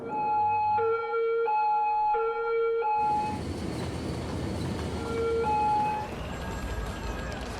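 An electronic two-tone ambulance siren in the city-building game Cities: Skylines sounds in a repeating pattern, then continues intermittently over a rumbling, busy background of traffic-like noise.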